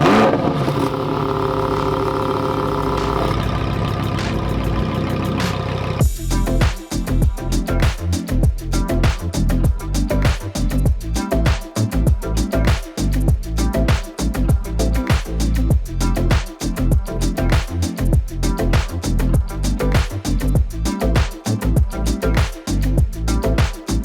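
Lamborghini Huracan Performante engine bursting into life after a brief quieter start, then a loud, close, steady rasping drone with rapid throttle pulses, heard alone without talk.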